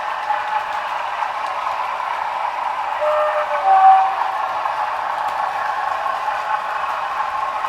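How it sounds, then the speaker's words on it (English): Class 47 rail freight locomotive hauling Pullman coaches in a train simulator game, a steady mid-pitched engine drone with a brief tonal swell near the middle, no talk. "it's a rail freight loco on Pullmans."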